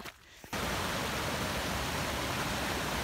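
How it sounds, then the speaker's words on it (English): A swollen, rushing creek and a small cascade on the Appalachian Trail in New York produce a loud, steady broadband roar that starts abruptly after a brief quieter moment and continues unbroken. "There's a bit of a little cascade over there and a rushing creek that I get to cross."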